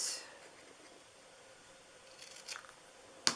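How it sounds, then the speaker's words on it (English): Scissors trimming a card stock mat, a quiet snip at the start, faint cutting scrapes, then a crisp closing snip near the end. "I cut it a little bit too long. So I'm just going to trim that."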